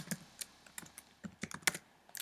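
Typing on a computer keyboard while entering text in GIMP: quick irregular key clicks, close and fairly quiet, with no voices.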